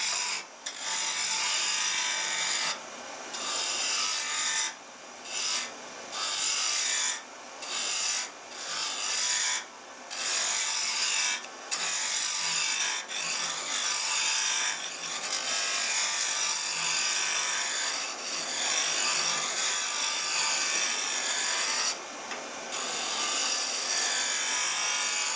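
Wood turning on a lathe as a tool handle is shaped: a bright, continuous rasping hiss of the gouge cutting spinning wood, broken by repeated short pauses as the tool lifts off, close and steady with no talking.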